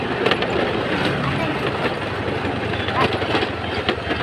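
A train rolls past nearby with continuous rumbling and clattering wheel noise, loud and steady throughout, while people talk over it.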